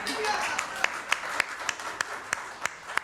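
Scattered clapping from a church congregation, a few distinct, sharp claps spaced irregularly over a soft murmur of room noise, sparse rather than full applause.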